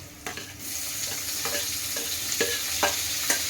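Chopped onion and tomato frying in a pan give off a steady sizzle, broken by a regular run of scraping stirs from a spoon, close and fairly loud, with no talking.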